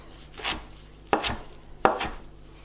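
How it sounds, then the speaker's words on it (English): A knife chops kaffir lime leaves into little strips for a pork green curry: three separate, close, crisp chops spaced about a second apart, with no talking. "I want us to chop up our Keffir lime leaves just into little strips"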